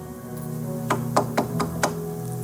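Five quick knocks land as if on a door, close and fairly sharp, over a steady background of sustained music.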